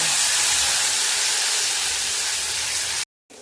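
Garlic and green chili paste sizzles in hot oil with cumin and mustard seeds for a vegetable stir-fry. A loud, steady, close hiss runs continuously and then cuts off abruptly near the end.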